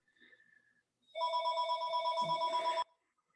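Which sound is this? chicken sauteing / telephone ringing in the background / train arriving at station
telephone ringing in the background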